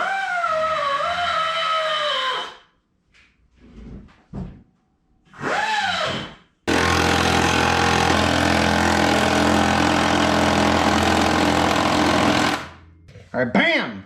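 Power tool grinding out a hole in a strut mount on a Fox-body Mustang during a 5-lug swap; a long loud steady whir runs several seconds after a few shorter bursts, with someone talking briefly at the start.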